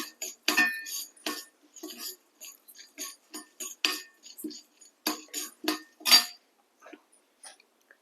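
A spoon scrapes and rattles dry lentils around a pan as they roast without oil, in irregular short strokes, with quiet pauses between bursts.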